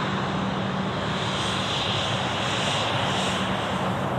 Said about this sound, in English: And we've got the Alliance Embraer 190 here.